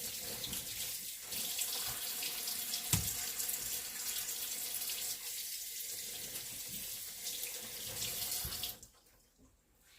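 Water runs steadily from a kitchen tap as pieces are rinsed, a close continuous splashing flow with a brief knock partway through, cutting off near the end.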